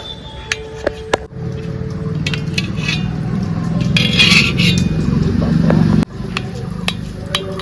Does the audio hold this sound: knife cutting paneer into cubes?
yes